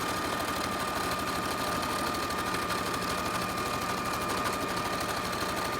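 A sewing machine stitches a cloth mask in one long straight seam, running as a steady, continuous whir close by with no pauses and no talking.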